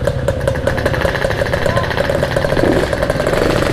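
A Yamaha 125Z motorcycle idles while warming up, its close, steady putter running evenly throughout as voices talk over it.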